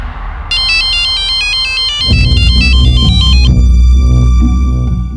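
A phone rings loudly and close, a repeating electronic ringtone melody that shifts into a fuller, throbbing tone partway through, with no talk.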